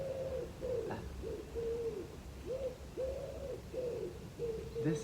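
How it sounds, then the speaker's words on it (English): A pigeon or dove coos outdoors in nature, repeating soft low hooting calls in a steady rhythm, moderately close over faint background ambience. "This bird singing right now,"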